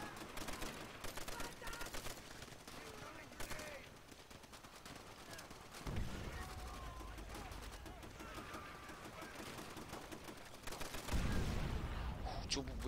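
Automatic weapon bursts from a machine gun in Call of Duty: World at War ring out in repeated rapid volleys across the scene, with louder bursts near the end amid ongoing game battle noise.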